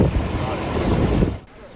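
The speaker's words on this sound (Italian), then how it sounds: "Il rumore dell'acqua" Water rushing at the Wadi El Rayyan waterfalls in the Fayoum desert, a loud broadband roar with wind buffeting the microphone, cutting off abruptly near the end.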